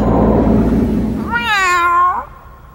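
A cat lets out a single drawn-out meow, rising and then falling, that follows a stretch of low rumbling background noise and ends abruptly.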